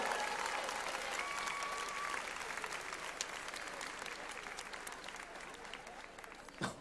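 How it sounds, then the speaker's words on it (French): Applause from the audience at the Japan Expo cosplay show, a dense, fairly distant wash of clapping that holds steady and fades slightly, with faint voices mixed in. "On l'applaudit bien fort, Japan Expo!"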